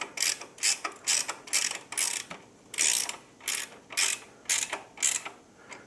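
Clamp being tightened on a Royal Enfield Himalayan motorcycle, with a close, quiet run of about a dozen crisp ratcheting clicks in an uneven rhythm.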